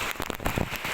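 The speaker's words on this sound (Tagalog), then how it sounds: "Ambon pa lang yan" Light drizzle from Typhoon Carina patters on surfaces around a bus terminal in Valenzuela City, a dense, close crackle of droplets that holds steady for under a second with no voices.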